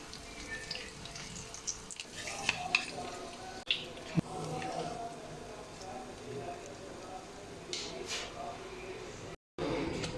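Mutton chapli kababs sizzle in hot oil over a low flame, a steady crackling hiss with occasional pops and clinks, heard close under intermittent talking.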